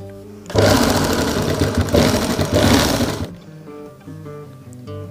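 A sewing machine runs in one loud, steady burst as it stitches along the neckline of a kurti, then stops and leaves only quieter room sound for the last couple of seconds.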